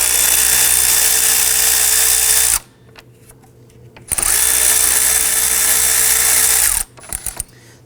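A power tool spins loudly in two long bursts, separated by a short pause, while removing the two 10mm top bolts on a 2005-2009 Subaru Legacy 2.5L cooling fan assembly; light clicks follow.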